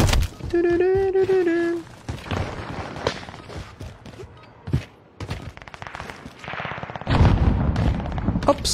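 Sharp gunshots and bursts of gunfire sound in the Rebirth video game, mixed with game effects and a tonal cue early on, while someone talks over the action.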